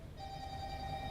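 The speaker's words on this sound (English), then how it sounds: "Oh, that's my phone. I'll let it ring out if that's okay." A mobile phone ringtone sounds at close range, a steady tonal ring that starts a moment in and holds over low room noise, with no talking.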